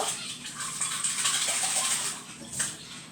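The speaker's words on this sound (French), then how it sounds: "je vais lui passer un petit coup d'eau" Tap water runs steadily over an item being rinsed, a continuous splashing hiss of about three seconds with faint patter as the stream hits it.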